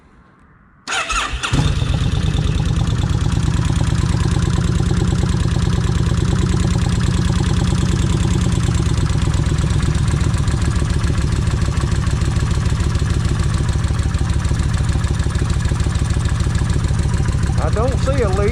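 Kawasaki Vulcan 1600 motorcycle V-twin cranks briefly, catches and settles into a steady, loud, close idle with an even rhythmic thump that runs without a break to the end.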